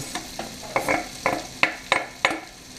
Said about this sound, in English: I'm actually going to throw this in with the onions.